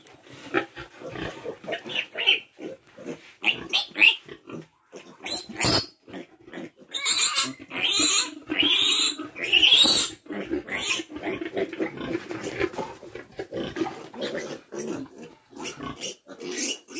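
Pigs, including a feverish piglet, grunt and squeal in irregular bursts, close and loud, with louder stretches of overlapping squeals in the middle and choppy grunts before and after.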